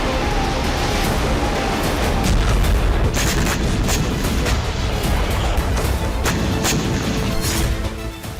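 Continuous dense rumble of HIMARS rocket strikes and explosions hitting Russian army positions in Ukraine, heavy booming crashes layered into a roaring, unbroken wall of noise.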